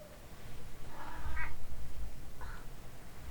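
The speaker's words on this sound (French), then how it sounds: "Mon chat, sois plus douce quand tu miaules." A cat meows twice, close and clear, the first call drawn out and the second shorter, over a quiet background with no talking.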